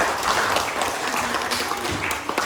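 Classroom applause after a student's presentation, a steady patter of clapping hands at moderate level throughout, with no talk over it.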